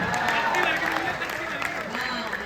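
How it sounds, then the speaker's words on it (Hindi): Audience clapping at a Hindi kavi sammelan poetry recital in Mathura, a dense, steady wash of applause throughout with a voice carrying over it. "ये तालियां अभी खामोश रखिएगा"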